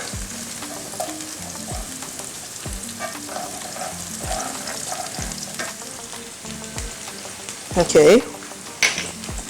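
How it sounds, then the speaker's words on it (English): Garlic fries in a pan, giving a steady crackling sizzle with occasional stirring scrapes and a couple of louder clatters near the end, while a voice speaks briefly. "now my garlic has been added and it's fried until it's aromatic"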